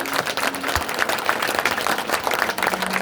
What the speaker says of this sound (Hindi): हाथ उठा के ताली बजा के दोनों के लिए सहमति अपनी प्रकट कर दो